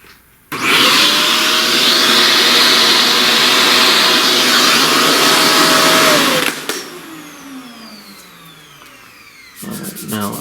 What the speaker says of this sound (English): Alright, let's vacuum again.